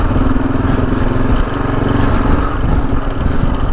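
A Kawasaki Gen 3 KLR dual-sport motorcycle engine runs loud and close while riding through sand, a steady throbbing drone with slight fluctuations in revs throughout.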